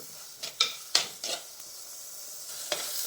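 Tomatoes sautéing in a clay pot for a Kerala fish curry, with a handful of distinct scraping stirs and a soft sizzle underneath, fairly close and with no talking.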